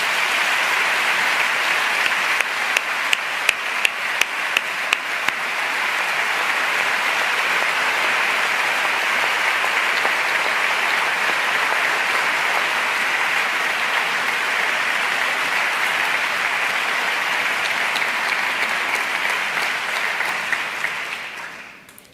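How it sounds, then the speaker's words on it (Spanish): A ceremony audience breaks into long, full applause that holds steady and loud for about twenty seconds before tapering off abruptly at the end, with no speech over it. "Otro aplauso para ellos, por favor."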